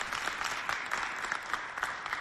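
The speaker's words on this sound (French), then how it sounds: "applaudissez pour vous-même" Dense, continuous applause from a studio audience at the Festafrica show as they clap for themselves, a steady wash of many hands with small swells.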